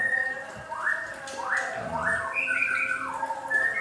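White-rumped shamas in a breeding cage give a run of sharp squawks and rising whistled calls, several close, bright notes in quick succession over a low background hum.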